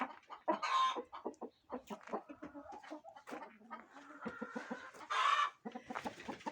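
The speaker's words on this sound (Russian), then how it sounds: "Там курица кудахчет." A farmyard hen clucks in repeated bursts, loud and close, with rising cackles that break into sharper calls, alone and without talk.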